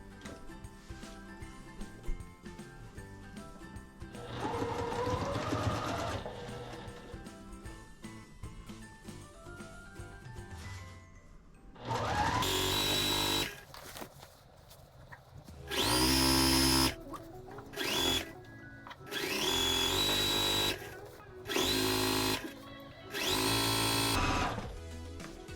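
Sewing machine running fast along long straight quilt seams: several loud bursts of rapid whirring stitching, each a second or two long, separated by pauses, following a quieter stretch of background music.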